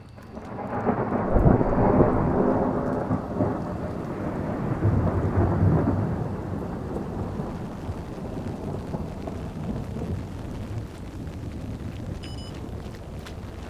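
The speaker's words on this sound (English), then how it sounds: "Of course it's gonna rain." Thunderstorm in Mongolia with deep rolling thunder building and fading over steady rain hiss and some wind buffeting on the microphone, heavy and continuous throughout.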